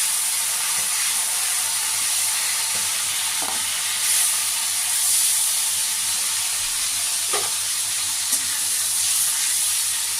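Tengra fish fry in hot oil with a constant bright hiss and crackle, punctuated by a few soft stirring knocks and splutters, close by and without talk.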